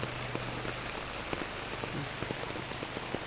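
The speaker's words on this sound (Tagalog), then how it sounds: "malakas ang ulan" Heavy rain pours steadily, a dense hiss with scattered sharper drops tapping on a nearby surface.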